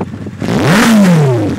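A Yamaha XJR 1300 motorcycle fitted with a Delkevic exhaust revs hard and close. The engine climbs to a peak, then falls back in one loud, rough sweep.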